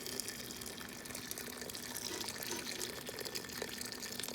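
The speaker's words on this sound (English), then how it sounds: "I'm going to add some more water" Tap water pouring steadily into a pot of chicken feet for soup, a continuous gushing fill at low volume with no pauses or speech.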